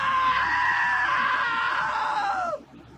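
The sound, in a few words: scream in video game What Remains of Edith Finch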